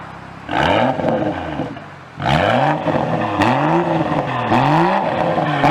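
2016 BMW X4 M40i engine revved in comfort mode, sounding loud and close with repeated rising and falling throttle blips, one after another, with no talk.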